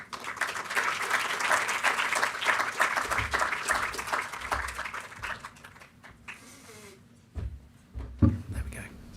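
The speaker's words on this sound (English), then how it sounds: "So if we could welcome our panelists to the stage and give them a round of applause." Audience clapping welcomes panelists onto the stage at a green games summit and awards event, moderate and fairly distant for about six seconds, then thinning into scattered claps, shuffling and a few knocks near the end.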